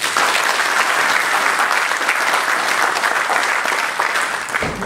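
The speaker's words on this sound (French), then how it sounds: "Je voudrais vraiment qu'on les applaudisse." Sustained audience applause at an IT and telecom forum opening address, a dense, even wash of clapping that continues for several seconds before cutting off.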